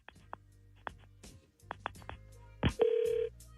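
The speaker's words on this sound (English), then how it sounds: "Let's make the phone call right now on KDWB's War of the Roses." A telephone call is placed: a series of short dialing tones and clicks, then a steady ringback tone, heard clearly and closely on a phone line with no talking.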